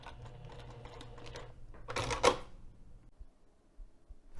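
A sewing machine topstitches a thick bag seam through acrylic and clear vinyl layers, its steady mechanical rattle running quietly before a louder burst of stitching near the middle, then tapering off to near silence.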